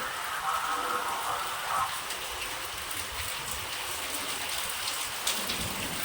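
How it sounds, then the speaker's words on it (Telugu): Steady rain pours down over farm fields, a dense, even hiss of drops on the ground that lasts throughout, with a faint voice briefly in the background. "ఇది చూసండి ఏ విధంగా పడుతుంది వర్షం."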